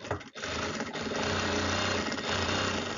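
Close, steady whirring and rapid needle chatter from a sewing machine stitching a gathered sleeve design, running continuously after a brief pause at the start.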